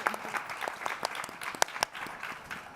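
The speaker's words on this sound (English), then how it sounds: "Please give him a big round of applause" Audience at a main-stage conference event in a Perth cultural centre giving a steady round of applause, dense overlapping claps with a few sharper close claps standing out, moderately loud.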